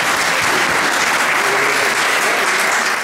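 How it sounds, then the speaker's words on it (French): An audience applauds at a French talk event, a dense, loud, continuous clapping that holds steady throughout with no voices over it. "je vous demande s'il vous plaît d'applaudir."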